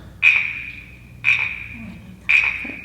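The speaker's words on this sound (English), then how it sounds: "Here's a little cricket sound." A small wooden cricket rasper, a percussion instrument, is scraped three times in close, evenly spaced strokes, each giving a bright chirping buzz that fades quickly.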